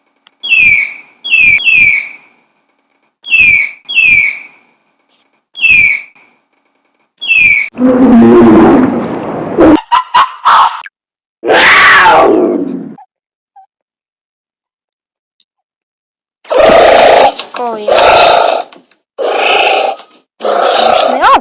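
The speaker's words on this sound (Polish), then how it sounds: "Patrz, to jest tapir." A tapir gives a series of high, squeaky whistling chirps in quick pairs, loud and close, followed later by several broader, noisier bursts of other sounds with silent pauses between them.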